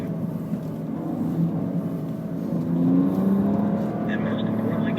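BMW Z4 cars working through a slalom course at a driving school give off a steady engine drone with a rise in revs midway, while an instructor talks over it.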